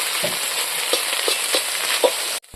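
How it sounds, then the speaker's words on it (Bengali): Drumstick leaves frying in a pan, giving a dense steady hiss of sizzling oil with soft stirring bumps at intervals, close up and alone, cutting off abruptly at the end. "সজনা পাতা বলে আমি ভাজা ভাজা করে নেব"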